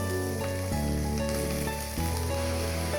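Young bottle gourd pieces tip into spices already fried in a pan, setting off a steady sizzle with a few clattering bumps as they land, close and alone with no voices.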